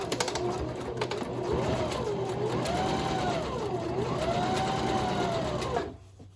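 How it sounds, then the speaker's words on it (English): A sewing machine stitches thick cotton canvas in a continuous close whirring run. The motor pitch rises and falls with speed, then the machine stops abruptly near the end. "So you're going to simply sew around with back stitching on the ends."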